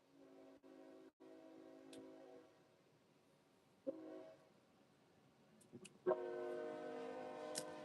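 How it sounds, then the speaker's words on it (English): A train passes at a distance with a sustained horn blast, steady tonal notes fading in and out over low rumble, followed by a louder, closer horn near the end. "Confirmation with that train coming by."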